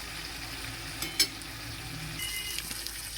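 Ingredients for egg dal, including fried potatoes, sautéing in a pan, a faint low sizzle with a couple of soft clinks from a stirring spoon, quiet and close.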